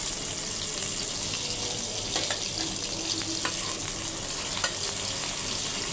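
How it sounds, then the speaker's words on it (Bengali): Tilapia fish pieces frying in a pan, a continuous loud sizzle and hiss with occasional crackles and pops, close up and alone with no talking. "এগুলো ভেজে নিব। এগুলো ভাজলে খাওয়ার উপযোগী হয়ে যাবে।"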